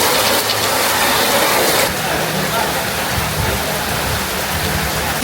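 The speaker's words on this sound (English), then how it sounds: "see how long it's going to take for this rain to move on" Heavy tropical rain pours steadily at a temple site on Koh Samui, a dense, loud, continuous hiss that eases slightly after a couple of seconds but keeps drumming throughout.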